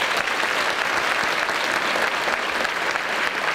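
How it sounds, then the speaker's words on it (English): At a school academic awards ceremony, an audience gives sustained, dense applause, with many hands clapping at an even level from start to finish and no speech on top. "So let's give them a round of applause as well."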